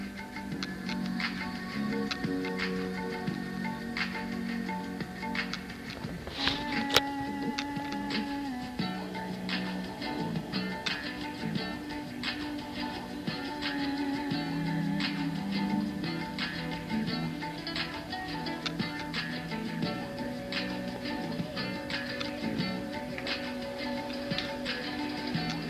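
A machine grinds and presses a rabbit feed mix of bran, tofu pulp, boiled cassava and pounded corn into pellets, giving a steady, loud mechanical drone with a rapid repeating tick that runs unbroken throughout.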